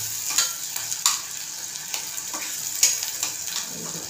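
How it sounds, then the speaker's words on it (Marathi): Masala paste sautéing in oil in a pan for a Malvani-style peas and potato bhaji, giving a soft steady sizzle with a few sharper crackles and stirring scrapes, fairly close and alone. "चांगलं ते याच्यामध्ये परतून घ्यायचं तेलामध्ये."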